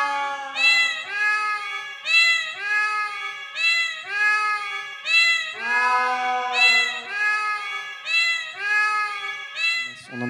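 Performers in a theatre piece called Les Chats imitate cats with their voices, producing a long run of drawn-out, wavering meows in rhythmic succession, loud and close with no accompanying speech.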